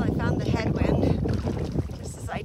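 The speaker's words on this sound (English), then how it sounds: "The wind just picked up like crazy." Strong wind gusting across a river during a solo canoe trip, with loud, continuous buffeting wind noise striking the microphone throughout, mixed with faint sounds of water and a voice.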